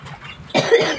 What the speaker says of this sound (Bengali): কাশি বাঁধাইছে খক খক করে